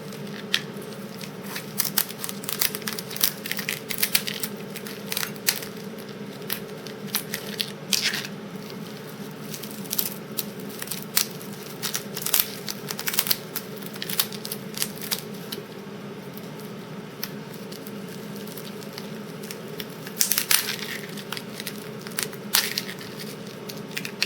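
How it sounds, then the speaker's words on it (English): Lobster tail shells are cut open with kitchen shears and cleaned by hand, giving repeated close snips, crunches and cracks of shell over a steady low background hum, with no talking. "you want to cut open and clean your lobster tails"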